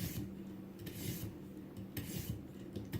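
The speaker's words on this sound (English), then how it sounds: "this is just cleaning the burr" A Griptilian knife edge is stroked on a ViperSharp sharpener to clean the burr, making several soft, close, scraping and rasping strokes in a loose rhythm, with no talking.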